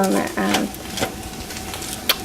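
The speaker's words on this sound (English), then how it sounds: "I'm just coming in and I'm just moving it around, tossing them around a little bit." Sweet potato fries sizzle in a hot pan while being tossed and stirred, with scraping clatters from the utensil and a brief voice at the start.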